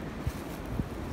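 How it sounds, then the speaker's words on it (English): Wind blowing across an outdoor bee yard on a very windy day, a steady buffeting rush on the microphone with a couple of soft low thumps. "Very windy today."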